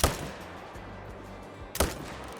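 Two rifle shots in the hunting game Call of the Wild, a sharp crack at the start and another about 1.7 seconds later, each followed by a rolling outdoor echo and decay.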